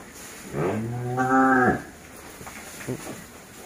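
A cow on a cattle breeding farm gives one loud, close moo that swells and falls away, followed by quieter farm background and faint murmurs.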